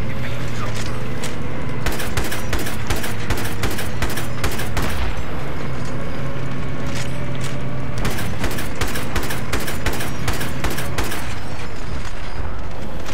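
Dense, loud bursts of automatic gunfire and explosive booms fill a Battlefield 3 hardcore Rush match on the Tehran Highway map, with rapid rhythmic rattling volleys over constant battle noise.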